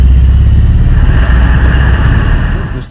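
A faulty truck engine with a smell of sulfur and transmission trouble rumbles loudly and steadily from close by, a deep low drone that eases off just before the end.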